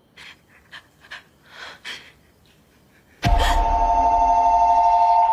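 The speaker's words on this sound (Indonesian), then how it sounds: "Barulah telepon asli dari petugas berbunyi." Soft panting breaths come first, then a telephone abruptly starts ringing, loud and continuous until the end.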